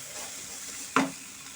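Peanuts stirred in a frying pan after the stove is switched off, a soft faint sizzle with one brief scraping clatter of the spoon partway through.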